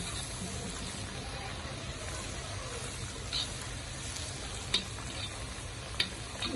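Sakinalu, Sankranti rice-flour snacks, frying in oil over a low flame, giving a steady soft sizzle with a few faint ticks and pops, no talking.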